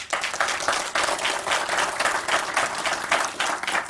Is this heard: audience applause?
yes